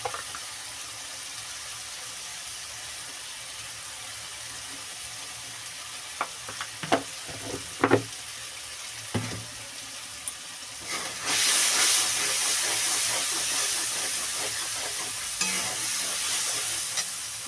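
Tilapia fish seasoned with salt and turmeric fries in hot oil, with a steady sizzle under a few scattered utensil clicks, then a louder burst of hissing steam that continues to the end, close and with no voices.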